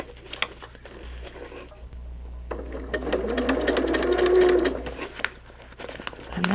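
A sewing machine runs a straight line stitch with a rapid, steady mechanical whir and patter, swelling louder in the middle before easing off, with a few light knocks around it.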